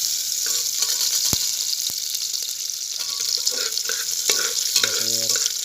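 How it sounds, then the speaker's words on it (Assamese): Onion and tomato fry in a hot pan for chicken biryani, a close, steady sizzle broken by sharp scrapes and clinks of a spatula stirring, with no talking. "পিঁয়াজ টেঙা ভাজি লৈছোঁ।"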